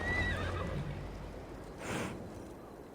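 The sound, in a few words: horse neighing and galloping in video game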